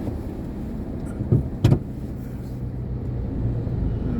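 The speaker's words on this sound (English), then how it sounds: "That's Ashok Leyland." Ashok Leyland vehicle passing on a road near Info Park during morning commute traffic, a low rumbling engine under a steady traffic hum, with a couple of brief louder bumps mid-passage.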